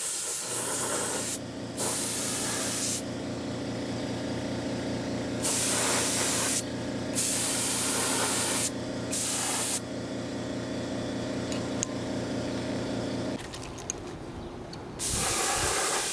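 Silver paint sprayed onto model aircraft flaps, a steady airbrush hiss running for about thirteen seconds, broken by several brief louder bursts, over a constant low compressor hum that cuts off near the end.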